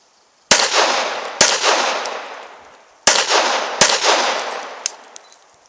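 .44 Magnum revolver fired at water bottles on an outdoor range, four loud sharp shots spaced about a second apart, each followed by a long rolling echo and ringing decay.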